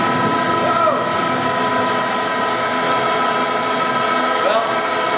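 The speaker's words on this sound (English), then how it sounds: "And this is my handy-cam out of the helicopter window." Helicopter flying over Gorongosa, heard from inside the cabin through a handheld camcorder, a loud, steady rotor and turbine roar that fills the whole stretch.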